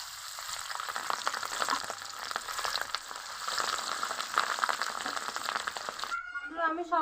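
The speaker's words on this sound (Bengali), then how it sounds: "দেখুন, বাকি মাছগুলো এভাবে লাল লাল করে ভেজে নিব।" Pieces of grass carp fry in oil with a dense, continuous, fairly loud sizzle and crackle, broken only at the very end by a brief voice.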